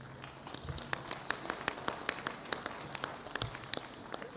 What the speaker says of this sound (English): Can we please clap hands for them?